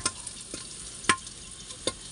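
Pork frying in a pan for Bicol Express as it renders its own fat, a steady soft sizzle broken by a few sharp pops and clicks, close and moderately quiet, no talking.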